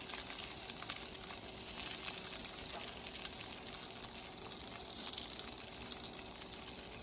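Green beans, asparagus and broccoli stir-frying in olive oil in a pan, giving a steady soft sizzle with faint crackles, continuous and fairly quiet with no voices.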